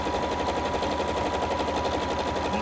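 A bernette sewing machine stitching a dense satin stitch, a loud fast continuous mechanical whirr with steady rapid needle rhythm, close and unbroken throughout.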